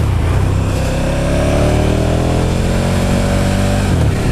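A KTM Super Duke 1290R motorcycle engine revs loud and close, pitch climbing steadily through a long pull before easing off near the end.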